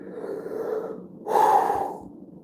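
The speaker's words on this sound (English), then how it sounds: "I'm yawning. I gotta yawn." A person yawning, a long breathy inhale followed by a louder, strained exhale near the microphone, heard alone without speech.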